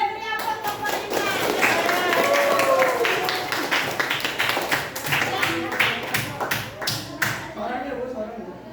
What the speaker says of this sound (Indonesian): Beri aplaus untuk Polima.